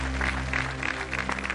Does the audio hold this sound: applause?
yes